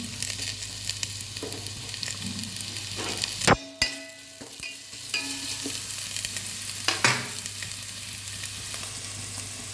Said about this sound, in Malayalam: ഉള്ളി ചെറുതായിട്ട് വഴന്നു ഇങ്ങനെ മതി.